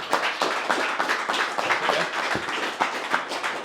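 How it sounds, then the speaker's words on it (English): Steady crowd applause at a combat sports press conference, many hands clapping continuously at a fairly even level throughout, no clear voices. "That deserves a round of applause"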